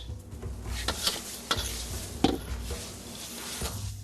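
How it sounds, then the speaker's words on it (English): Minced fresh garlic frying in a wok, with sporadic stirring scrapes and clacks over a steady close sizzle, no voices. "Frying garlic requires controlled heat, because it's easy to burn it towards the end if you're not careful."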